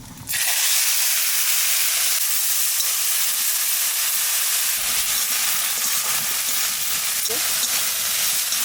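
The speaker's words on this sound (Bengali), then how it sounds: "চিংড়ি মাছটা একটু বাজিয়ে নিছি" Prawns sizzle and fry in hot oil with cumin and bay leaf, a loud, steady hiss that starts abruptly and carries on close up, with a few faint clinks of stirring now and then.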